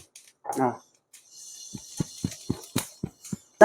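Fenugreek seeds dry roasting in a pan give sharp little pops and crackles one by one at a steady pace, with a brief murmur of sizzle early on and no talking.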